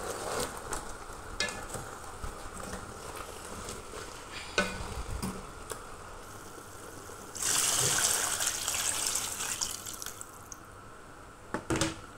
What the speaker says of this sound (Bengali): ভালো করে নেড়ে ছেড়ে দিয়ে দেবো পানি।